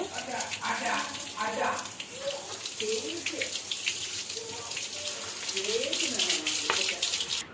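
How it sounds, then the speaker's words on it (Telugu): Tap water pours over boiled egg noodles in a strainer, a steady running splash with faint voices talking in the background. "ఇప్పుడు ట్యాప్ వాటర్ వేసేయండి"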